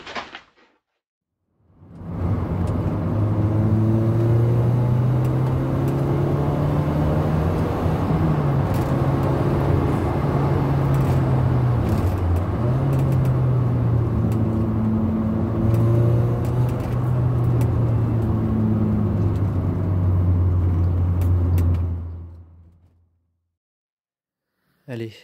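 A Peugeot 306 S16 with a six-speed gearbox and a troublesome clutch drives on a test run, its engine droning steadily inside the cabin with rising and falling revs through gear changes for about twenty seconds, no talk over it.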